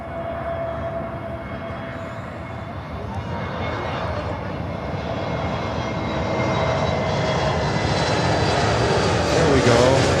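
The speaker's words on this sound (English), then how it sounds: "This is American Airlines on a 321neo coming in from Los Angeles." An American Airlines Airbus A321neo jet comes in to land, its engine roar steady and loud, building slightly toward the end, with a voice heard over it at times.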